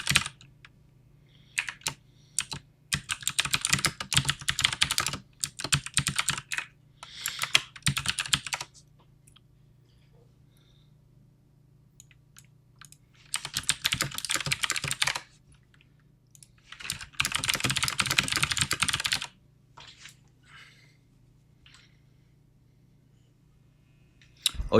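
Rapid typing on a computer keyboard comes in several bursts of clattering keystrokes, separated by quiet gaps with a low steady hum underneath; the typing is close and fairly loud.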